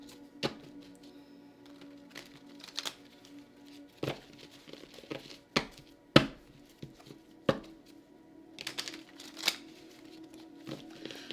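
Tarot cards being shuffled by hand in a quiet room: irregular crisp snaps and riffling bursts spaced a second or two apart over a faint steady hum.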